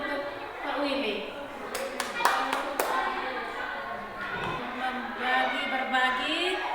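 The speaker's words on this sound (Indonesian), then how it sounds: "Kita tepuk tangan dulu untuk Pak Willy." A group claps for a colleague during a teacher training class discussion, giving a handful of sharp, scattered claps in the middle of ongoing talk.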